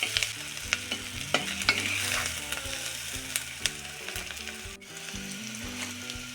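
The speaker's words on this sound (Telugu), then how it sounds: "చూడండి, ఆనియన్ ఇలా బాగా ఫ్రై అవ్వాలి." Sliced onions fry in a pan as the base for a mutton curry, giving a constant bright sizzle with scattered pops and the clatter of stirring, with no talking.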